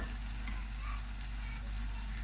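Mushrooms and flour sizzle steadily in a hot pan, a continuous close frying hiss with faint stirring scrapes and no talking.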